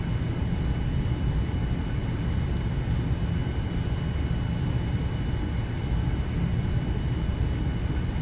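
A Boeing 787 airliner in the flight simulator FSX on approach to a runway, its steady engine and airflow roar filling the cabin evenly and continuously at moderate loudness with no talking.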